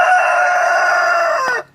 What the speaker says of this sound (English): I have two roosters, and they don't get along